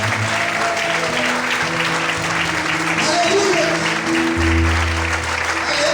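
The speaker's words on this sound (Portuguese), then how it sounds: "Será que você pode aplaudir e exaltar a Deus por isso?" A church congregation breaks into sustained applause during a sermon, the clapping broad and steady across the room while voices call out and a low organ or keyboard drone sounds underneath.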